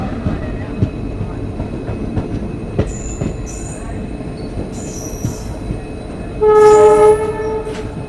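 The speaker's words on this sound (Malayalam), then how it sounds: "ഷൊർണൂർ ജംഗ്ഷനിലേക്ക് എത്തുന്നതിൻ്റെ ഭാഗമായിട്ട് സ്ലോ ഡൗൺ ചെയ്താണ്" A passenger train slows on its approach to Shoranur Junction, with a steady rumble of wheels on rails, scattered clanks, squeals and a loud horn blast near the end, heard from on board.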